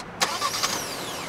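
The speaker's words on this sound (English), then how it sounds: "cool feature that Seltos comes with in the EX and the SX trim level is remote start" A 2021 Kia Seltos SX Turbo compact SUV engine starts by remote start: a sharp crank bursts in, then the motor settles into a smooth idle nearby, with no talking.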